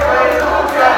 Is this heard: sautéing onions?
no